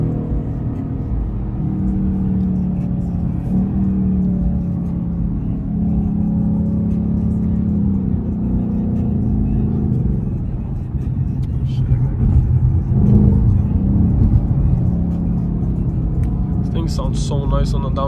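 A Ford Mustang 5.0 engine rumbles from inside the car, rising and falling as it revs on a downshift, with a low steady drone and people talking over it.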